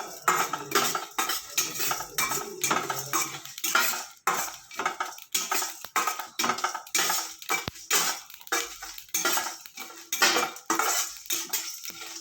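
A metal utensil repeatedly scrapes and clinks against a kadai while dry-roasted spices are stirred and fried, a close, loud rhythm of sharp strokes throughout with no talking.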